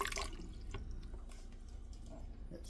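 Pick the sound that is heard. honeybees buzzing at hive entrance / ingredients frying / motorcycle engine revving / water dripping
water dripping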